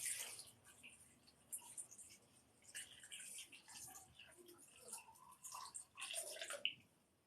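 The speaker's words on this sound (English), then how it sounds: "So we're putting the water." Water is poured into a bowl holding ash and coins during a money spell removal ritual, heard as quiet, uneven trickles and drips with a few splashy bursts toward the end.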